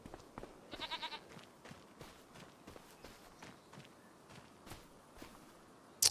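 Goats bleat in a Farming Simulator 25 farmyard: one brief, rapid bleat near the start, surrounded by faint scattered clicks, shuffling steps and quiet ambient noise.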